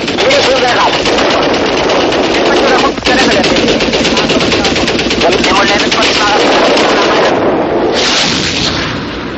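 Machine gun fire from Israeli aircraft in aerial combat rattles in loud, sustained bursts, dense and unbroken with one brief gap, heavy and close.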